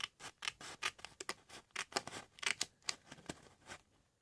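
Scissors snipping paper along a score line while making spine holes for journal signatures, a run of quick, close, crisp cuts with short pauses between snips, no talking.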